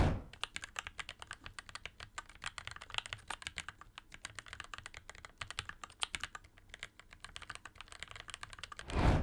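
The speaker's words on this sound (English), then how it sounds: "low-profile keycaps have almost no cavity at all, so the sound is immediate, bright and sharp" Fast, steady typing on a keyboard with low-profile keycaps gives dense, bright, sharp clicks close up, with no talking and only brief pauses between bursts.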